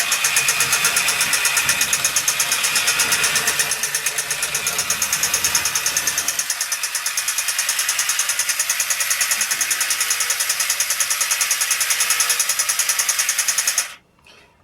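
A refurbished LiteBot toy robot runs its small motor, once jammed, with a continuous high-pitched whine and fine rapid buzzing, close and steady for about fourteen seconds before cutting off abruptly.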